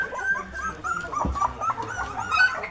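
Three-week-old puppies whimper and yip softly in their nest, a few thin high cries close by with light rustling between them.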